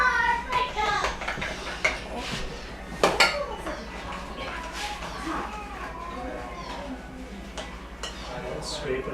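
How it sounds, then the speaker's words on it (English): A spoon stirs and scrapes a pizza topping mixture around a bowl while cooking with a grandfather, with steady clinks and scraping at close range under children's and adult voices talking. "Now take your spoon and stir that around."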